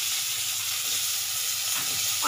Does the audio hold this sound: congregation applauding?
no